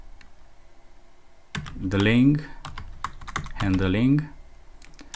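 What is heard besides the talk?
typing on a computer keyboard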